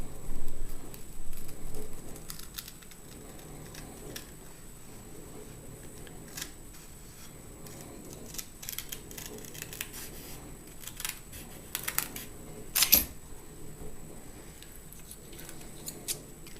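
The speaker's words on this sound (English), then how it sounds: "Cuts nice and clean with a regular pair of household scissors." Repeated soft snipping of household scissors cutting through kerosene heater wick material, steady irregular cuts close by, with faint handling noise in between.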